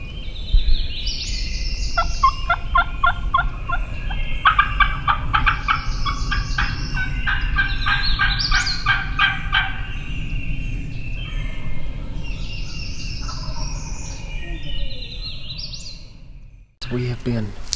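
Rapid, rattling turkey gobbles repeat several times from fairly close range, over a low outdoor background.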